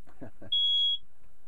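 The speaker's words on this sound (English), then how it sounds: "It's a smoke alarm and I'm smoking." A single short high-pitched smoke alarm chirp cuts in right after a few words of talk, then quiet.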